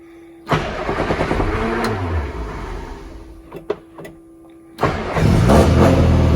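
A 1962 Morris Mini Minor engine cranks with the choke pulled out, churns for a few seconds and stalls, then catches and settles into a steady, close idle.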